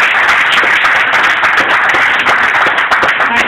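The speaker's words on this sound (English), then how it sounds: "So give her a hand of applause for wherever she's at." Steady, dense audience applause at an awards ceremony honoring a Woman of the Year, loud and continuous throughout with many hands clapping and no talk over it.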